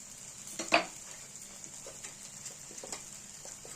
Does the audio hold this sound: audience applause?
no